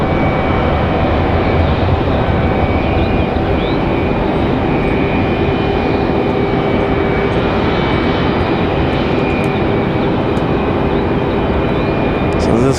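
A jet airliner departs Raleigh-Durham and banks left toward Charlotte, giving a loud, sustained engine roar with a steady whine throughout and voices talking over it.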